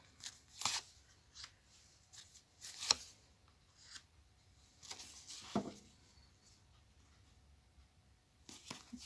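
Tarot cards are shuffled and set down in soft, scattered flicks and slaps, quiet and close, with short pauses between each card placement.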